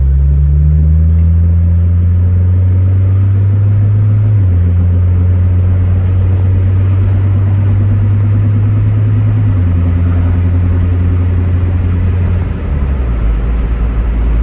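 An Acura TSX with a Yonaka aftermarket exhaust cruises in automatic mode, a loud, steady low drone with gear changes shifting the pitch, heard from inside the car.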